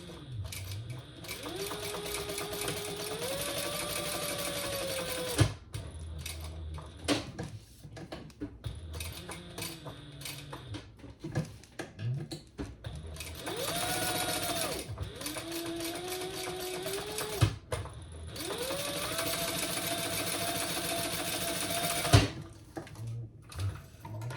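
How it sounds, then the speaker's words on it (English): Home sewing machine chain stitching down the sides of a crossbody bag, running in several steady whirring bursts separated by short pauses and handling noises, close and fairly loud. "let's sew down each side. Just do a little chain stitching"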